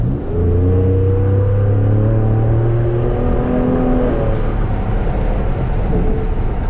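A 2019 Hennessey VelociRaptor V8 truck accelerates hard, its engine note climbing in a loud, close roar over several seconds before easing into a steady drone.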